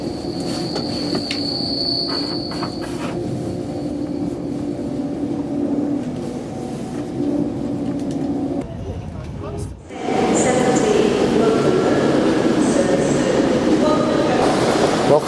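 A train pulling into London Euston station rumbles and rolls with steady rail noise and wheel sounds, then gives way to a louder, busier burst of station ambience as it comes to a stop; no speech.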